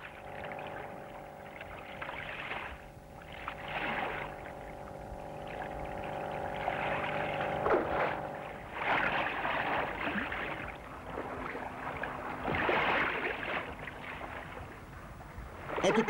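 A boat moves on open water, with a steady wash of water and wind and a low hum beneath, sustained and moderately close.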